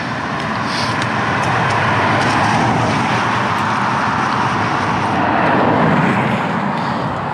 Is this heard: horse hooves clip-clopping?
no